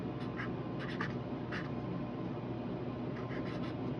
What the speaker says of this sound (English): I'm just gonna write my name as well.